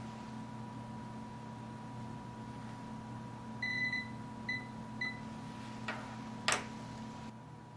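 A multimeter continuity check gives a few short high beeps over a faint steady electrical hum, followed by a couple of sharp clicks.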